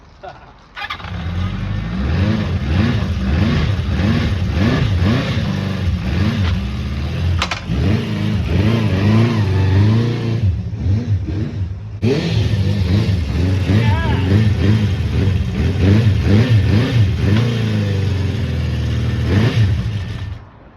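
A cold Honda CB400 Four motorcycle engine that will not idle runs close by, blipping and revving repeatedly in uneven bursts, briefly cutting out before catching and revving again.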